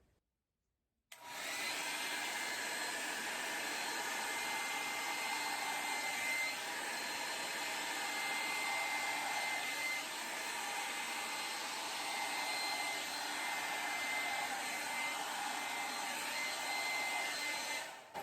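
A hair dryer starts abruptly and blows steadily at close range over wet acrylic paint, a loud, continuous whooshing roar that holds without pause.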